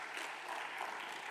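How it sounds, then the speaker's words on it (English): Steady applause from a conference audience, a dense wash of many hands clapping throughout with no talking. "Clap for him, please."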